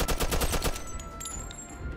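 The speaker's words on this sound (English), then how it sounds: "That Tommy gun is good and all, but this MP40, bro, it does some work" An MP40 submachine gun firing in the game Mafia 2: a loud, rapid burst of close shots for under a second, then fading echoes and ringing.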